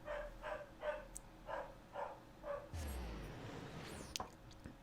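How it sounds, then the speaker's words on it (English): A dog in the video game Final Fantasy 14 barks six times in an even, moderately loud rhythm, followed by a burst of other game sounds and a sharp high chime near the end. "The dog doing the bark."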